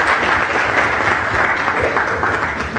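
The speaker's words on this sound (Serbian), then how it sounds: "Nemanja Matanović, aplauz za to moment." An audience breaks into steady, loud applause, a dense continuous wash of many hands clapping that holds evenly for about three seconds.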